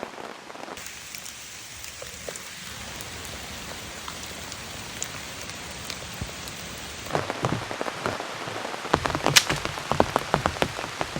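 Heavy rain pounds a blue Home Depot tarp over a campsite in a huge rainstorm. The steady dense patter is close and constant, and sharper, louder drops spatter the tarp in the last few seconds.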